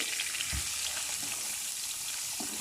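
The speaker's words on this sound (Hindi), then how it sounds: "जैसे ही हमारा ज़ीरा सौते होगा हम इसमें प्याज ऐड कर देंगे।" Finely chopped medium onion sautés with cumin seeds in hot oil, a steady, close, even frying hiss with a few soft low bumps from the pan throughout.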